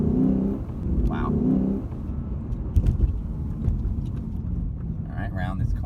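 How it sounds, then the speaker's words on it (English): Lexus RC F V8 in Sport Plus mode makes a launch-control start from about 1500 rpm, engine and exhaust roaring as it accelerates while an occupant talks over it. "It revs up to about 1500, and then I let go."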